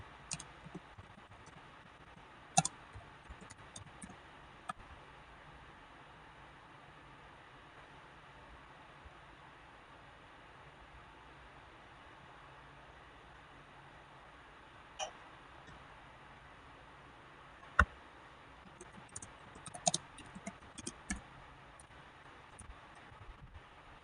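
Commands being typed on a computer keyboard, heard as sparse, faint clicks and small bursts of keystrokes over a quiet hiss, with long pauses between them.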